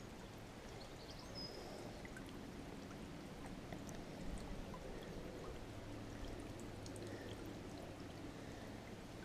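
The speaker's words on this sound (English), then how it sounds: "the movement and little trickly, splashy sounds" Soft, steady trickling and light splashing of water in a small tub pond, faint and continuous with no voices.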